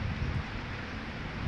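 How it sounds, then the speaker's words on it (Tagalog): Heavy rain pours down steadily in a loud, dense broadband wash, close and continuous with a low rumbling undertone, no voices over it. "Biglang lumakas ang ulan mga kamamay."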